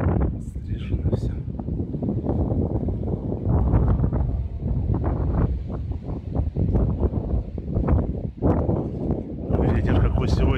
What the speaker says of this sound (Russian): Ветер какой сегодня.